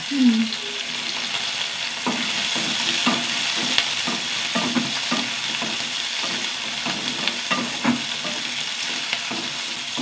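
Dried red chillies frying in a pan, a continuous crackling sizzle with intermittent stirring scrapes and clicks, close and moderately loud.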